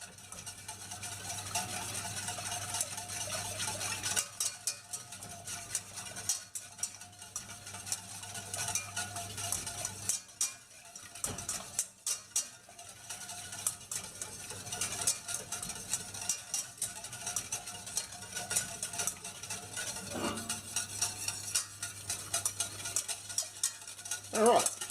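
Whisk stirring a roux into warm milk for a béchamel sauce in a saucepan, a steady scraping swirl with repeated soft clinks against the pan, continuous and close, no talking.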